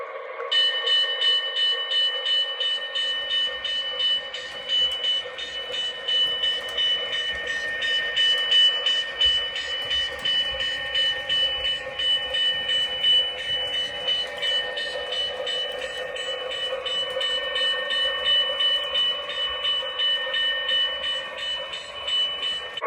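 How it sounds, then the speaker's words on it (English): Menard's O gauge F unit model locomotive runs on a home layout after rewiring, its steady motor whine and buzzing hum continuous and fairly loud from start to finish, with faint track clatter beneath. "Now you should be able to get a better sense of the revving up of the prime mover in here after I rewired the locomotive."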